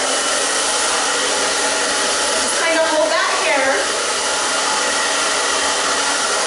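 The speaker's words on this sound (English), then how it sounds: "Then I like to take the blow dryer" A hair dryer blows steadily and loudly throughout while styling bleached men's hair, with a brief quiet spoken remark partway through.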